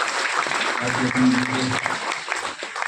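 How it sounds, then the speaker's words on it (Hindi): Loud applause fills a hall at IIT Jodhpur's foundation day celebration, a thick continuous clatter of many hands with a voice rising briefly through the middle. "उसके लिए भी जोरदार ताली बजाओ भाई"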